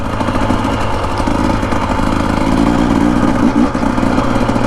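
A 2025 Husqvarna TE250 dirt bike engine drones steadily and loudly while riding a rough desert trail, with a dense, continuous buzz throughout.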